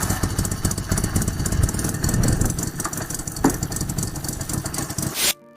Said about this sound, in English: The BMW R10 is a highly unique, compact opposed engine motorcycle and the first to feature a two-stroke engine.